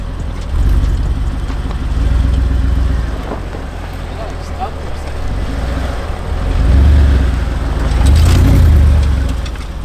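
Mercedes G-Wagon engine rumbling and surging while plowing through dirt offroad, a steady low drone that swells a couple of times, with people talking over it.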